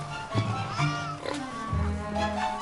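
Pigs grunting and oinking on a farm, a few loud close snorts and squeals spread through the clip over steady barn background noise.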